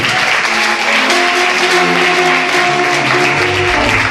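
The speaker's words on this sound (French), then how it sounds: "On peut les ovationner s'il vous plaît." A crowd at a school excellence-day ceremony gives teachers an ovation, with loud, dense, continuous applause throughout and no speech over it.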